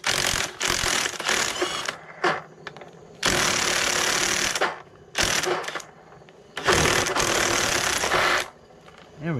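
A hand ratchet works a reverse-thread bolt on a Troy Bilt self-propelled lawn mower, giving loud, close bursts of rapid clicking separated by short pauses.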